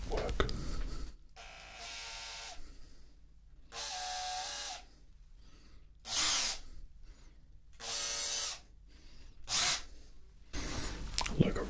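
A power drill used as an ASMR tool whirs in four short bursts separated by pauses, each burst lasting about a second and a half, with soft handling noises in the quiet gaps between them.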